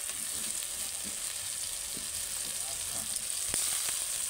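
Ginger-garlic paste sizzles in a pan over softened onions and tomatoes, giving a steady, close hiss with a few soft stirring scrapes and no talk.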